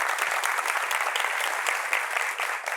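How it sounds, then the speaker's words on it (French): Studio audience at a French-language talk show applauding steadily and continuously, a dense wash of many hands clapping at moderate distance with no speech over it. "Applaudissements pour vous-même, chers amis du public."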